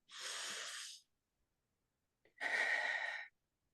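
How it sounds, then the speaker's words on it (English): Two deep breaths up close during a group meeting, one long airy exhale, a pause, then another full breath, each lasting about a second in an otherwise quiet room. "we'll take 3 big breaths. Inhale and out, exhale"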